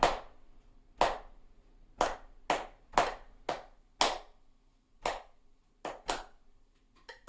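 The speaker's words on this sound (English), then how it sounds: "with your metronome, let's play Scotland the Brave at 60 beats a minute, just clapping" Single person clapping the rhythm of Scotland the Brave at 60 beats a minute, crisp close hand claps in an uneven rhythmic pattern with faint metronome ticks beneath.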